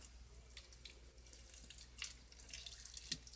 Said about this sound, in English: I have to go wash my hands now.